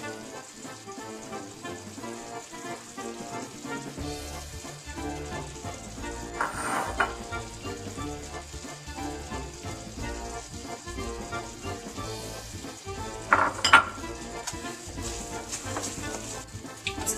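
Chopped chives and grated Comté cheese get stirred into a reducing sauce in a pan, a steady low sizzle with faint spoon scrapes and a couple of brief louder stirs, close and even, no voices.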